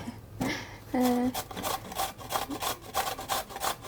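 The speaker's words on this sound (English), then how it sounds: "Now we're going to grate it, and to have the most flavor in it, we take not the smallest, how do you say, grated part or grating part." Vegetables are grated on the coarser side of a grater, giving rhythmic close rasping strokes, with a brief tonal voice-like sound near the start.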